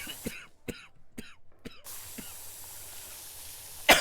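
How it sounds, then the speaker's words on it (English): Several sharp coughs close to a microphone, four quick ones in a row then a softer one, followed by quiet room noise and a loud burst at the end. "I'll cough right into the mic"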